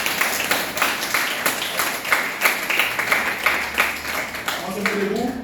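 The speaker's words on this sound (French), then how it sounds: "On peut s'applaudir." A classroom of students applauding themselves, a dense wash of many hands clapping steadily and fairly close throughout, with a few louder claps standing out.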